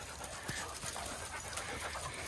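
A calm, confident dog pants softly and rhythmically at a distance, a faint steady breathing under a quiet background hiss.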